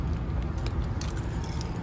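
Car keys jangle and clink close by for a couple of seconds in a dense, continuous metallic rattle as someone handles and tries the key in a car, with no voices.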